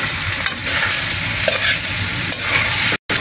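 Bitter gourd sautéing in a pan with egg and pepper, a steady loud sizzle with stirring scrapes running throughout and no talk, broken by one brief silent gap near the end.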